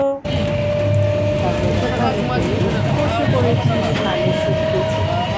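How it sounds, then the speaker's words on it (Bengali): A local train pulls into a station, its steady rumble and wheel noise running throughout with a sustained whistle-like tone, while people talk over it. "দেখো এবার ট্রেন চলে এলো"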